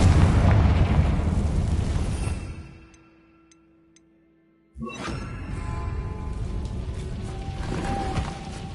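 A blasting-spell explosion in a video game, with a loud booming blast that cuts into near silence, followed after a pause by a second sudden, loud burst and sustained rumbling debris.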